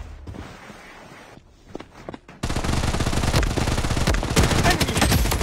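Gunfire from the Blood Strike video game: after a quieter stretch with scattered sounds, a loud, rapid stream of machine-gun shots erupts and keeps rattling to the end.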